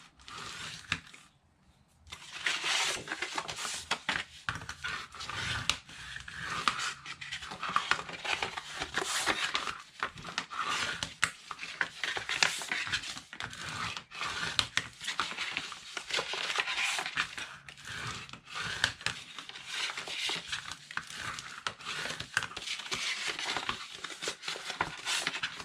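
Paper being folded and burnished along score lines for a mini coffee cup holder, with continuous crinkling, creasing and rubbing scrapes close up, dense and steady throughout with brief pauses.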